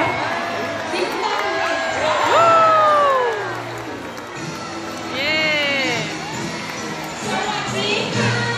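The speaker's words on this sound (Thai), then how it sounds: "คนปรบมือแล้ว" An audience at a sea lion show claps and cheers, with excited shouts and children's voices rising and falling, and people talking nearby.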